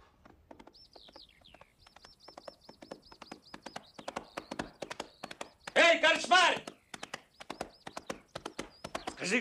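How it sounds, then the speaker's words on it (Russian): Horses' hooves clip-clop steadily on a road in a period film scene, an even close rhythm joined by bird chirps, with a voice speaking briefly in the middle. "Лошади подали!"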